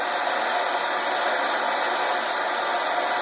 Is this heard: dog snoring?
no